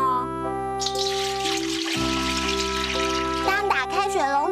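Water gushes from an opened tap in an animated cartoon, a steady splashing rush that starts after a moment of calm and runs under sustained background music, with a voice rising near the end.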